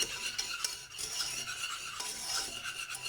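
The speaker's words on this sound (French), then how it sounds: "et on mélange bien." A spoon stirs lasagne sauce in a casserole, giving a continuous close scraping and rasping with small clinks against the pot, steady and unbroken with no talk.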